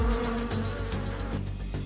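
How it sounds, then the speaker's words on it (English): An agitated swarm of bees drones in a dense, continuous buzz that stays loud and close throughout, with wavering pitch as the insects move around. "But bees seem to be angry."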